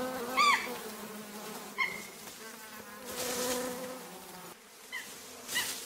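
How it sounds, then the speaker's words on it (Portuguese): Bees swarm and buzz around a young chimpanzee reaching into a deep hole, a steady insect drone with sharper close passes at several moments, and no speech. "as abelhas não estão contentes"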